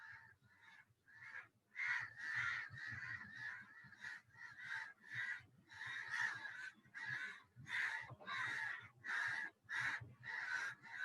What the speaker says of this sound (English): Lot of crows outside.